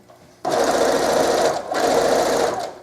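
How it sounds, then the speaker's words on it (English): A sewing machine stitches scarf fabric in two quick close bursts of rapid, even needle clatter, separated by a short pause. "I'm going to sew, but leaving a gap about a couple inches"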